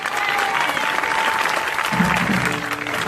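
Church congregation at an evening crusade in Ebolowa applauding and cheering for Jesus: steady dense clapping from a large crowd, loud and continuous, with a voice audible through it.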